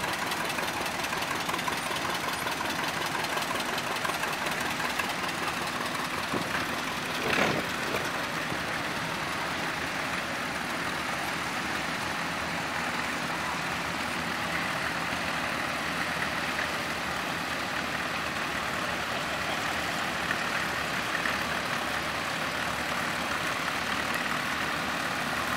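An old tractor engine runs steadily at a tractor show display, a continuous close, moderately loud chugging with a faint knock and no voices over it.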